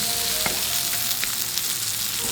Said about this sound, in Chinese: 黄油给它下锅融一下，再来几个蒜片，这个就完全煎牛排一样的煎法哈